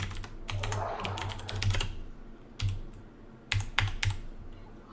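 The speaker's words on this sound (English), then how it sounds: "Those are like the deepest typing sounds I've ever heard." Deep, clacky typing on a computer keyboard arrives in quick clustered bursts with short pauses, close and fairly loud with no talking over it.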